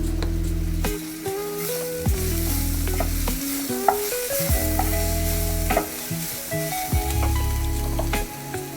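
Ginger garlic paste frying in a hot pan while it is stirred for aloo paratha filling: loud continuous sizzling with repeated scraping stir strokes and clinks, no voices.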